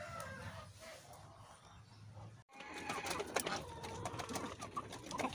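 A white rooster in a poultry yard gives bird calls, with clucks and coos over steady outdoor background noise, growing busier and louder after a short break midway.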